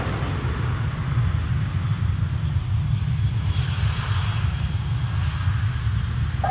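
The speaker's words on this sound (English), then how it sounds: "Just as the KLM blasts off 28 to Amsterdam" A KLM airliner roars steadily on its takeoff roll from runway 28 at Dublin Airport, bound for Amsterdam; a loud, continuous broadband engine rumble holds throughout with no talking.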